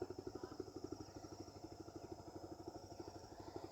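A sewing machine stitches cotton fabric for a child's full-sleeved kameez, its needle thumping in a fast, steady mechanical rhythm close by, with no talking.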